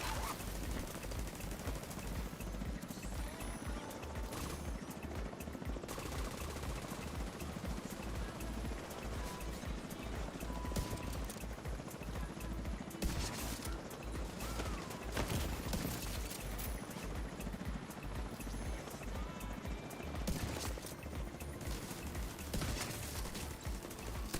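Dense, continuous gunfire and explosive crackle from a Division 2 firefight, a busy rattling barrage that stays at an even level throughout with no clear pauses.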